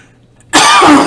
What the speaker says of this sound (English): It's a smoker's cough.